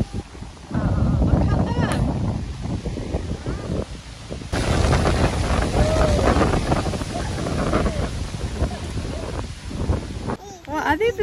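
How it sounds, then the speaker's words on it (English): Gusty wind blows outdoors beside a duck pond, buffeting the microphone with a steady roar that swells and drops, while people talk over it. "It's a bit windy, isn't it, Blake?"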